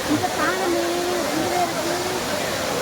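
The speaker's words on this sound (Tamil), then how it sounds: "இப்போ நம்ம ஐந்தருவிக்கு வந்திருக்கோம். குற்றாலத்தில்" Five Falls waterfall at Courtallam gives a loud, steady rushing roar close by, while a person talks over the water throughout.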